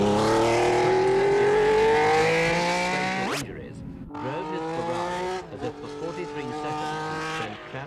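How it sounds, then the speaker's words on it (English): A Ferrari Formula One racing car on a private track, its engine screaming loudly as it rises in pitch, then dropping sharply as it passes, followed by fainter revving under a narrator's voice. "He drove his new machine out onto Ferrari's private track and put it through its paces."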